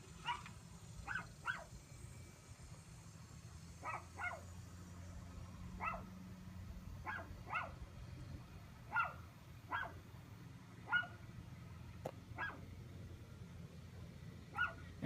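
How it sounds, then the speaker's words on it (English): A puppy barks repeatedly in short paired yips, moderately distant, spaced out over a quiet rumbling background. "You can probably hear one of my puppies barking at me."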